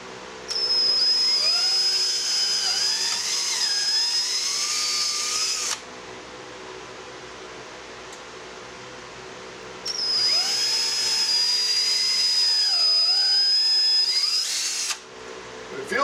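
A power drill bores mounting holes for Bennett trim tabs into resin, whining loudly and steadily in two long bursts of about five seconds each, with a quieter pause between them.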